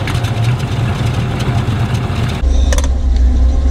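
Land Rover 101 engine cranking and catching, then settling into a loud, close idle with a steady low rumble; a brief rattle accompanies the start partway through.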